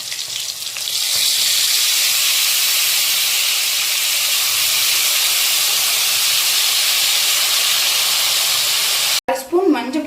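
Tamarind water poured into a hot tempering for a Tamil yam (karunai kizhangu) masiyal sets off a loud, steady sizzling hiss that runs without break for about nine seconds, then cuts off abruptly into a brief stir.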